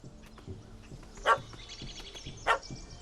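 A puppy barks in The Witcher 3, giving two sharp yips about a second apart over quiet game ambience, with no talking.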